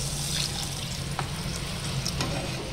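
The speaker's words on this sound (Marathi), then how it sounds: "आता आपण त्याच्यात पाणी टाकू" Water goes into masala that has just been fried in oil for alu vadi, giving a steady hissing, bubbling rush that holds even and close throughout with no break and no voices.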